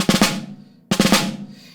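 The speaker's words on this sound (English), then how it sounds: "where you have the ruff, the 4-stroke ruff" Two quick snare drum four-stroke ruffs, each a tight cluster of strokes building into an accented hit, loud and close with short ringing decay.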